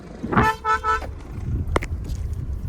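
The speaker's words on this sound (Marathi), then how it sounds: "हॉर्न मारा इथं" A car horn honks twice in quick succession, loud and nearby, followed by a short sharp beep over steady traffic rumble.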